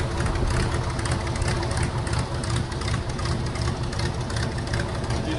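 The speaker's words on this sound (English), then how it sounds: "Engine on." An airboat engine runs in the Everglades, a loud, steady, rumbling drone with rough low chugging that stays constant throughout, close to the listener with no talking.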